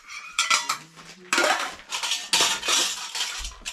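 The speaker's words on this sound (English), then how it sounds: "It's just a little net bag with 2 little pans. And inside of those pans are 2 little teacups" Small metal camping mess kit pans, cups and plates clinking and clattering as they are handled and nested, bursts of bright metallic knocks close up with no talk.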